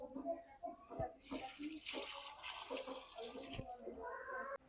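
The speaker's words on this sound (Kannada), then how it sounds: "ನೀರು ಹಾಕ್ಬಿಡೋಣ ಅದಕ್ಕೆ" Water is poured onto a dried-out potted plant, a splashing gush that lasts a few seconds, with voices and clatter before and after.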